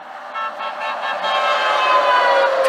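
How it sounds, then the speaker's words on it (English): A passing truck on a Vermont road sounds a sustained horn blast that swells and grows louder over a few seconds, heard nearby with road noise and no talking. "No, but at least you honked."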